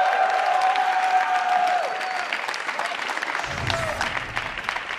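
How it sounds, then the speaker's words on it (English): A crowd applauds steadily, with clapping and cheering holding strong throughout, a whistle rising near the start, at a League of Legends esports match. "A little applause here for EG"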